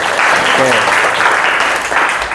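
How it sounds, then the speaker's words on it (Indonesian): Students in a physical education class burst into loud, close applause that fills the whole moment, with a few voices calling out over the clapping. "Oke, tepuk tangannya mana?"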